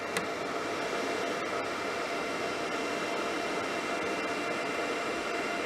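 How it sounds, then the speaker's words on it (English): Steady broadband whooshing hum of a power inverter's cooling fan running continuously with no load, with a few faint clicks, fairly quiet and with no voices. "I hear the fan running"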